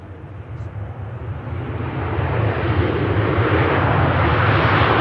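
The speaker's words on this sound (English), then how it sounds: "Next aircraft in, Ryanair from Porto." A Ryanair airliner arriving from Porto at Manchester Airport, its jet engine roar swelling steadily from moderate to loud and sustained over several seconds, broad rushing noise with a strong low rumble, no talking.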